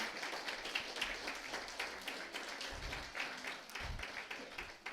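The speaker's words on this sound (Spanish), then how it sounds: "le invito una vez más a que le dé un aplauso de alabanza al Señor en esta mañana" Congregation applauding in praise during a Sunday morning church service, a steady dense patter of many hands clapping at moderate distance, with a couple of low thumps underneath.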